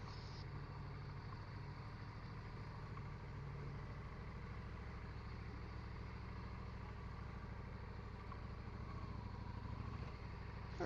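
A motorcycle engine hums steadily and faintly throughout an evening cruise, a continuous low drone with wind noise and no speech.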